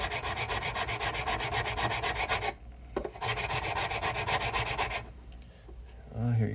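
A file rasps across the frets of a Blueridge BR-40 acoustic guitar during fret leveling, close and steady rhythmic strokes in two long bursts separated by a brief pause.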